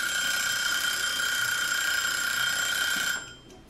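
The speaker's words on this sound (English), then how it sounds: "I'm going to leave the sound of this timer in the video just for nostalgia." A continuous electronic kitchen timer buzz rings loudly and steadily for about three seconds, then stops abruptly, leaving a quiet room.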